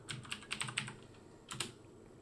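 Keys on a computer keyboard clatter as a folder name is typed, a quick run of close, light clicks followed by a pause and a short second burst.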